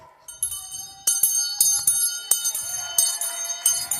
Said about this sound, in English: Ring the bell, let we send them home.